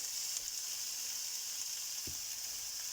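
Zucchini, red bell pepper and parsley fry in a pan for shrimp stir-fried noodles, giving a steady, even sizzle that holds for the whole stretch, with one brief low knock near the end.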